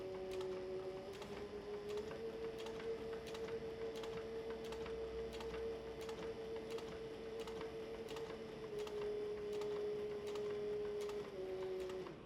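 A sewing machine stitches the side seam of a canteen purse, its motor holding a steady whirring hum with rapid, even needle ticks throughout. The hum dips briefly near the start and end, and the whole sound is quiet and close.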